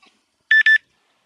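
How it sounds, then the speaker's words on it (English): Two short electronic beeps in quick succession, a steady high-pitched tone, with silence around them. "The beeping that you hear is just reminders for me"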